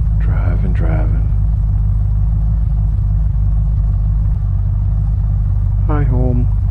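A steady low engine drone from a car driving in Unturned runs loud and unbroken throughout, with brief bursts of someone talking over it near the start and end.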